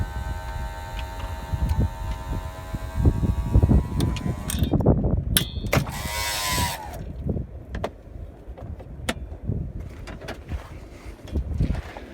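The electric motor of a 1983-1993 Ford Mustang convertible top whines with a rising and falling tone as the top frame moves, with clunks and clicks from the mechanism and background noise throughout.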